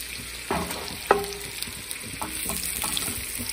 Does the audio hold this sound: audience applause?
no